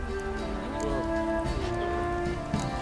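Steady rain falling in the Witcher 3 game world, a continuous even patter at moderate level with no talk.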